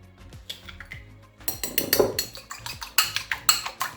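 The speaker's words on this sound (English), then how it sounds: "Beat it with a spoon." A spoon beats egg in a bowl for a Nigerian meat pie: sparse clinks at first, then quick, rhythmic, close metallic taps against the bowl, with no voices.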